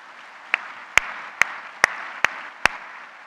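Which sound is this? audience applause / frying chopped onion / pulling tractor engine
audience applause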